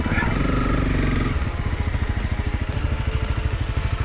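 Off-road motorcycle riding in Morocco, the engine rumbling close and loud with a pulsing, uneven throttle as the bike moves over rough ground.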